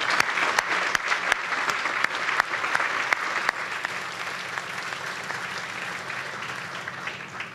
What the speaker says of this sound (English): And I think a special round of applause for everyone I just named